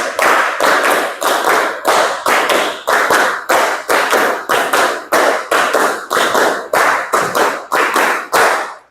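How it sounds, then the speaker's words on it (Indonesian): A class of eighth-grade students claps together in tight unison, sharp rhythmic bursts in repeated groups of five with short pauses between, loud and close in a classroom. "Siap fokus ya, 6 kali tepuk 5."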